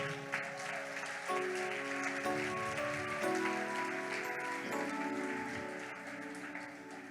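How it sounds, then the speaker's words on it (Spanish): A church congregation applauds, a continuous wash of clapping under sustained organ or keyboard chords that shift in steps, moderately loud and steady. "Denle un aplauso al Señor."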